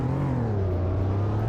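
A new Toyota Tacoma pickup truck driving along the road, its engine giving a steady low drone that lifts slightly as it pulls, heard close from inside the cab with no talk.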